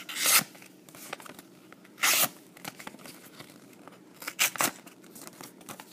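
A CRKT Drifter knife blade slices through paper envelopes, producing several sharp, close tearing rips in irregular bursts, with quieter rustles and crinkles of paper between them and no talking.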